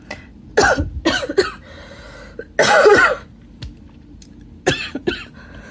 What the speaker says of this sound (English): I don't know where that coughing fit came out of nowhere